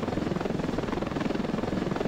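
A helicopter in the game Ravenfield thumps with a steady, rapid rotor beat and engine drone, loud and close, with no other sounds over it.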